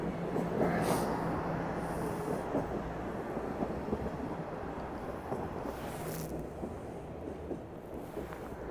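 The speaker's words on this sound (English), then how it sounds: "Catch the train going the other way." A train passing in the opposite direction in midtown Toronto, heard as a broad rushing rumble with wind buffeting the microphone, steady and fairly loud for several seconds, with no one talking.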